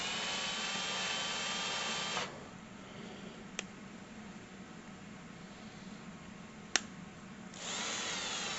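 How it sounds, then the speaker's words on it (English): A handheld drill drives a small tap into soft A36 steel, whirring steadily for about two seconds and stopping. A quiet pause carries a couple of sharp clicks, then the drill spins up again briefly. "it was easy to use a drill to drive the tap"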